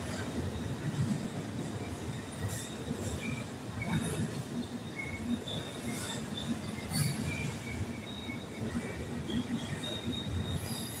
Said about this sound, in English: pretty long train right there.